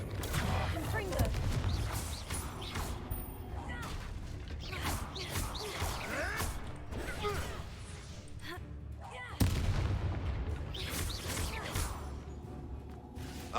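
A Confringo explosive spell cast in the video game Hogwarts Legacy sounds as repeated booming blasts and crashes, with one sharp hit near the end, over continuous loud game noise and a talking voice.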